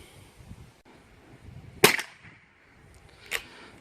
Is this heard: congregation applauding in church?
no